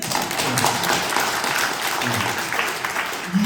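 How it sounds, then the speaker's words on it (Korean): A crowd at a Christian forum and mayoral by-election candidate debate in Asan, South Korea, claps as a fairly dense, even wash of sound, with voices murmuring underneath. "우리끼리니까 박수 한번 칠까요?"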